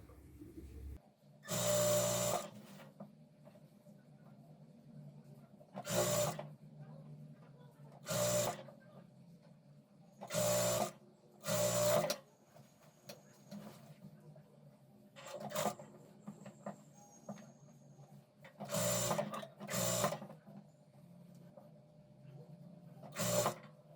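A sewing machine stitches a salwar seam in short separate bursts, about nine runs of whirring stitching with quiet pauses between them, close and clear.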